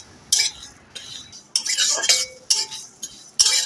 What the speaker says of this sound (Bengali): সমস্ত মশলাটা ভেজে নিচ্ছি।